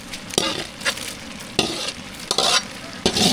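Tempering for snake gourd kootu sizzling in a pan, bursts of sharp crackling that flare up and die down several times over a low background hiss.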